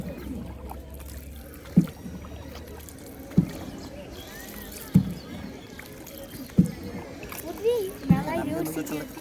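Oars dip rhythmically as a wooden rowing boat moves along a river in Bangladesh, each stroke a soft knock and splash roughly every one and a half seconds, with water trickling and a voice talking faintly underneath.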